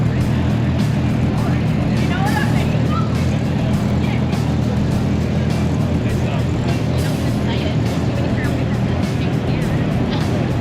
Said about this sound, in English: Got more cars and just more cars coming in.